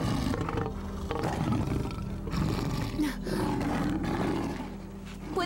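Several lions roar and growl continuously, loud and close, in a deep layered chorus where the wandering lions live, with no speech.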